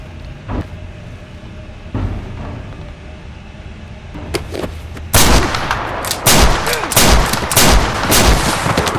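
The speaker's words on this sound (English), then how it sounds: "He grabs Charlie and with teary eyes shoots him dead" Gunfire in a western film scene, a few sharp shots at first, then a dense burst of loud repeated bangs over a rumbling background.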